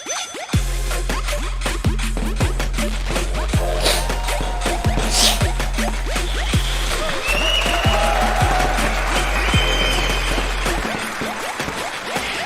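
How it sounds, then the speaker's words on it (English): Crowd-style clapping crackles loudly on a talk show segment, heard alongside a steady low hum and a few sharper knocks, continuing evenly before easing slightly near the end. "give yourselves a round of applause"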